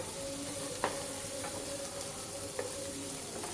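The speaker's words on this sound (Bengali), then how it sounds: "এবার এগুলোকে ভালোভাবে ভেজে নিতে হবে" Beans and a green chili frying in a pan for semolina upma hiss with a steady, moderate sizzle, broken by a few sharp clicks from a stirring spoon.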